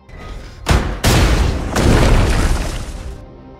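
A sudden loud boom from a grenade explosion in an action film, then a second heavy blast that rolls into a long, rumbling roar before fading out.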